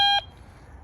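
An EENOUR GC 1078 metal detector gives one short, bright electronic tone over an iron nail in ground littered with nails from a torn-down shed, cutting off after a fraction of a second into quiet.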